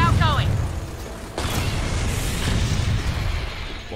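Rocket blasts in the video game Gears of War 4, a broad booming burst near the start and another swell midway, under dense ongoing combat noise with a voice talking.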